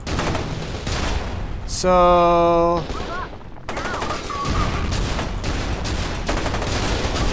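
Gunfire and blasts from a weapon in the video game FEAR 2, loud bursts over a dense game soundscape with a brief tonal beeping alarm and someone speaking briefly.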